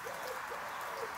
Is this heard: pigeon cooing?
yes